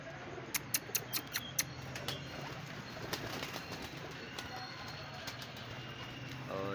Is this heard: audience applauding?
no